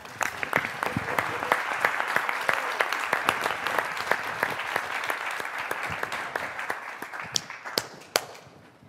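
An audience at a university alumni weekend session applauds to welcome a guest speaker, dense, close clapping with distinct sharp claps standing out, continuing steadily and thinning toward the end.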